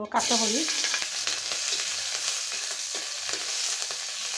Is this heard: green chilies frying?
yes